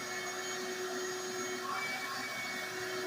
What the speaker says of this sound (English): We'll let him get through vacuuming in there.